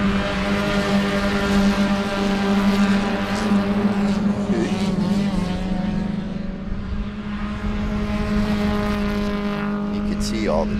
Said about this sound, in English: Look at this gaggle of cars.